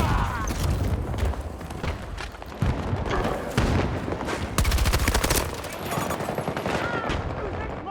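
Rapid bursts of loud video game shooter gunfire, dense cracks and thuds repeating through the whole stretch, with a voice talking at moments under the shots.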